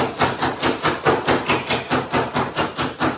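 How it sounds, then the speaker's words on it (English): An ice mallet pounds a bag of ice in about eleven evenly spaced, close, crunching thuds, each blow cracking and scattering the cubes in a steady rhythm. "So, simply load up your bag o' ice and get a-vengin' on that ish."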